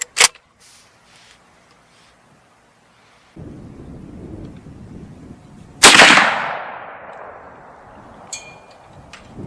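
A .45-70 rifle fired through a scope outdoors, one sharp loud report about midway that booms and rolls away in a long fading echo, preceded by quiet wind and handling noise.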